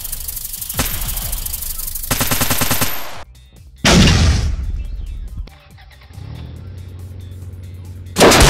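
Thugs firing guns in the Ball Robot Car Transform video game: loud, close bursts of rapid automatic gunfire separated by short pauses, with a heavy booming shot and mechanical rumble between volleys.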